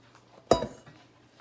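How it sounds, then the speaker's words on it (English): A spoon clinks once against a pot while strawberry jam and sugar are stirred, a single bright metallic knock followed by a short scraping tail, with no talking. "And you want to add that all at once. Get it in there. And keep stirring. Stir, stir, stir."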